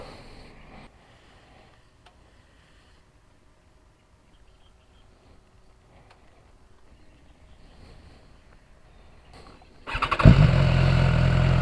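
A 2019 BMW S1000XR motorcycle engine starts up after near silence with faint rustling, then holds a loud, close, steady rumbling idle for the last seconds.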